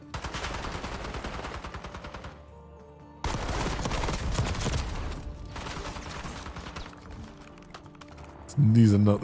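Video game gunfire: rapid bursts of automatic fire and single shots in dense, clattering volleys, with a brief lull, then renewed shooting while a person talks over it.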